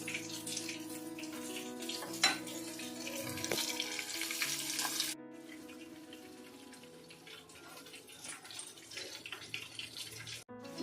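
Batter-dipped, breadcrumb-coated shrimp hit hot oil with a loud, steady hiss and sizzle that eases into a quieter bubbling, with a few sharp clinks.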